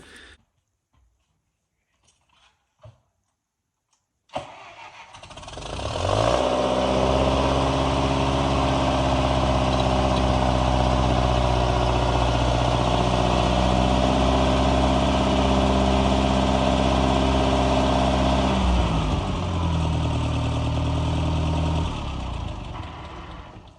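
A Massey 35 tractor's engine starts after a few quiet knocks, then runs loud and steady near by while its loader lifts 500 liters of sap, holding a firm idle that dips slightly toward the end.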